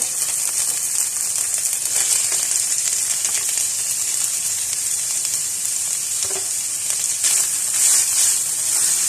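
Chicken hits a hot frying pan and sizzles loudly and continuously, a dense close hiss with faint rattles of stirring mixed in.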